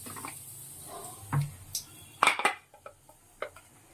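Duck egg frying in mustard oil in a wok, with scattered soft crackles and a few clattering utensil knocks against the pan, fairly close and quiet, no talking.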